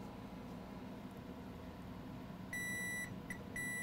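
Several short, high electronic beeps from a multimeter set to diode mode, probing a shorted HP Spectre laptop motherboard; the tones come in a quick cluster near the end, over a faint background hiss.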